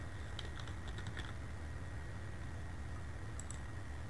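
A password is typed on a computer keyboard, a short burst of faint key clicks over steady background hiss, followed by a couple of later taps.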